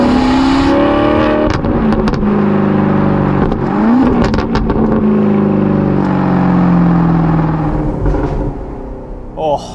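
Alfa Romeo 8C Spider sports car engine switched to sport mode, revving loudly and continuously, rising and falling in pitch with strong harmonic tones throughout, near and dominant.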